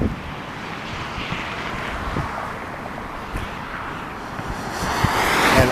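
A Dassault Falcon 7X tri-jet taxiing and starting its takeoff at Visalia airport, California, makes a continuous broadband jet roar with wind noise, heard from outside at a distance and building in loudness toward the end.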